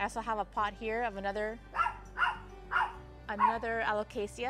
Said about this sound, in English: She likes to bark at nothing, but she barks.